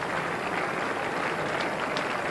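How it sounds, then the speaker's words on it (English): A crowd at the 1992 World Cup cricket match between Sri Lanka and South Africa applauds around the ground, a dense, steady wash of clapping that runs throughout. "So applause around the ground."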